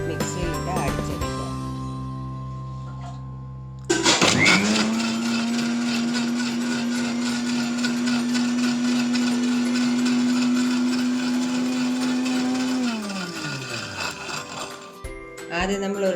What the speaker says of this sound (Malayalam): ഇത് നന്നായി മിക്സിയിലിട്ട് അടിച്ചെടുക്കുക.